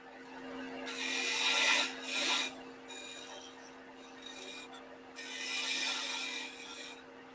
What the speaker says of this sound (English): Gonna use my thin parting tool now